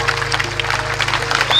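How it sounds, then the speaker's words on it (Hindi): A stadium crowd at a Republic Day parade in Bhilai applauds a women commandos' firing display, loud dense clapping over a steady hum of the public address system. "तालियों के साथ इनका अभिनंदन कीजिए"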